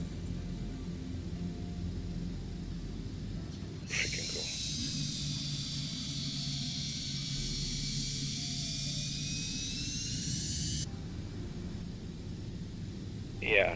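Boeing 727-200RE jet engines roar steadily after takeoff in MSFS 2024 simulation, a continuous whining, hissing drone held for several seconds with a high tonal whine, bracketed by quieter cockpit ambience at start and end.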